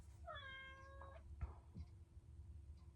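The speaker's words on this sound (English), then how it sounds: "Does anyone else have cats that just continually meow?" A house cat lets out a clear, drawn-out meow at close range in a quiet room, followed by a few faint soft noises.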